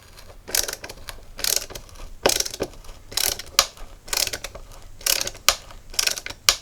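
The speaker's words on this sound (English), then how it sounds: "This ratchet is working fine." A $4 mini fat tool's ratchet clicks in quick bursts of sharp metallic ticks, repeating in a steady rhythm of short clusters, close up with no talk.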